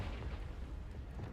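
A Confringo explosive spell from Hogwarts Legacy lets off a dense, continuous low rumbling blast that fills the whole short moment at steady, moderate loudness, with no voices.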